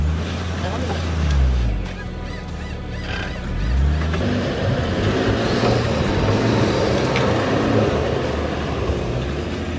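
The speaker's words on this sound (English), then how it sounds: "I'm just going to engage the recovery mode, and the car will just rock itself out of this pickle" A 2019 Mercedes-Benz GLE rocks itself free in recovery mode, its drivetrain whirring up and down in two rising-and-falling surges before settling into a steady, rougher rumble, with a voice talking alongside.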